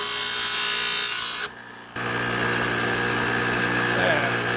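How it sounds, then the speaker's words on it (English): Grinder easing a bottom corner on a metal part of a broken Monaco RV slide-out, a loud continuous abrasive whine and grinding up close, briefly dropping off mid-pass before resuming steadily. "I'm still going to ease that bottom corner right there a little bit using the grinder."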